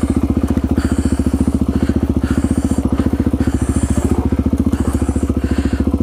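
Motorbike descends a steep, rocky track with a steady rapid engine pulse, thumps and clatter from the rough ground, loud and close throughout.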